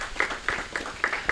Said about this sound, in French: je vous demande de l'applaudir chaleureusement s'il vous plaît